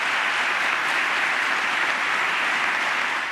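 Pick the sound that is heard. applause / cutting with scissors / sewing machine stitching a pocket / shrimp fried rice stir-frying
applause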